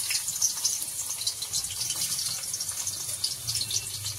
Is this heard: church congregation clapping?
no